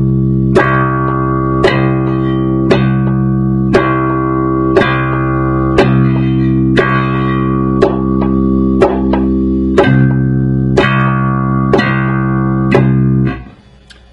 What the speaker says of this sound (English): hit that bass note. And use any bass note you want. I'm going to use a C